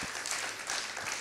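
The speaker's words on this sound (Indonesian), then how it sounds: "Kasih tepuk tangan yang paling meriah untuk Tuhan Yesus." Applause from a church congregation at a Sunday service fills the space, a steady wash of many hands clapping at moderate volume with no voices over it.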